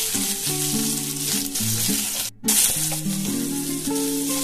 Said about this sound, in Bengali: তো এটাকে একটু ভেজে নিই।